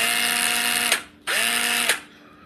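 A Makita 7.2V cordless drill fitted with a 1/2-inch chuck runs in two bursts, each a steady high whine with a speed rise at the start and a sharp cut-off, alone and close.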